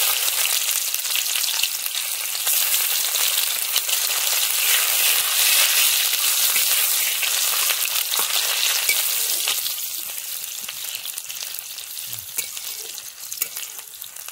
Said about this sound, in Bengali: পেঁয়াজগুলো দিয়ে দাও, তেলটা গরম হয়ে গেছে। পেঁয়াজ কাটাটা দিয়ে দিচ্ছি তেলটায়